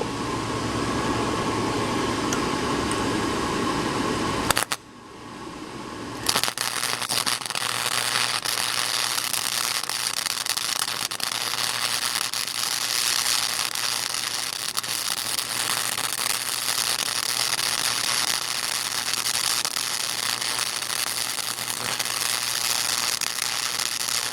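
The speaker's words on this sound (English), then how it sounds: "let's do some turtly welds" A gas tank filler neck on a 4WD Daytona is welded with a continuous, dense crackling hiss that holds close and loud, broken once by a short pause before it resumes and carries on steadily.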